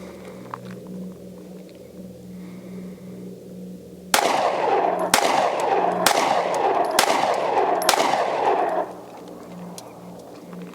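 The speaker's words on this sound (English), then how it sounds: "It's 5 rounds through the new Spectre Comp, her first rounds." Five sharp, loud pistol shots from a Sig P365XL Spectre Comp ring out in an uneven, roughly one-per-second rhythm, each with a reverberant tail, over a low background hum and with no talking.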